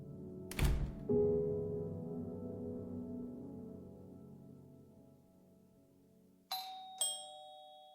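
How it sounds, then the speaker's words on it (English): A house doorbell rings in the evening with two clear chime tones, a ding and then a dong, after an earlier low thud and a long fading rumble. "the Fabiano's doorbell rang for the first time that night"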